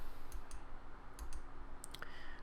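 Mouse clicks while saving a preset in Aurora HDR photo-editing software: a few quiet, sharp clicks spread over a couple of seconds against a low background hum.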